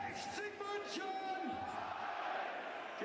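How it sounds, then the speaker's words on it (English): A football crowd at a German third-division match between 1860 München and Waldhof Mannheim chants a player's name. The voices come as a loud, sustained stadium roar, with rising and falling shouts throughout. "The crowd chant his name"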